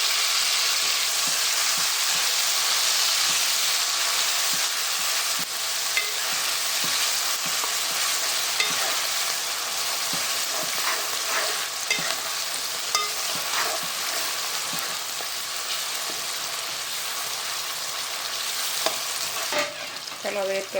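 Tomato being added to a pan and frying for chicken curry, a steady close sizzle with occasional stirring scrapes and clinks, continuous throughout with no talking.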